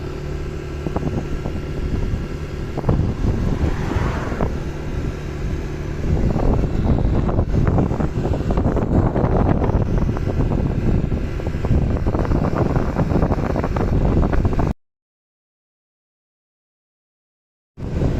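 A 2021 Yamaha NMAX 125 scooter ridden at about 99 km/h, with steady engine drone mixed with heavy wind rush across the microphone that continues loudly, then cuts out abruptly near the end.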